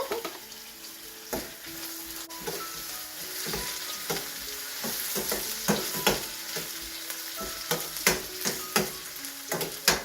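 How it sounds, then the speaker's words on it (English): Garlic and onion sauté in a pan with a steady soft sizzle, broken by frequent clinks and scrapes of a utensil stirring, close and moderately loud with no talking. "Just softening the garlic and the onion for a bit."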